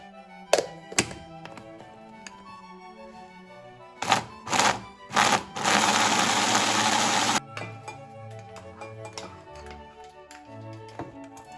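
A blender whizzes up fermented green chillies for a hot sauce. A few knocks and taps come first, then short pulses, then a loud, steady whirring burst of a couple of seconds. Clunks and clatter follow.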